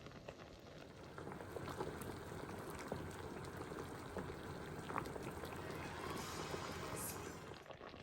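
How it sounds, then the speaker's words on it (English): Persimmon (kaki) jam simmering in an uncovered pot, a steady low bubbling and popping that stays even and close throughout, with no voices. "Okay, so I've been cooking my kaki for about 45 minutes."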